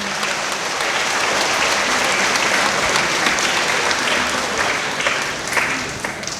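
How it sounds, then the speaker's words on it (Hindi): A church congregation at Sunday Mass claps loudly for two priests, dense, even applause that holds steady and close throughout. "दोनों फादर के लिए कृपया जोरदार तालियां बजाइए।"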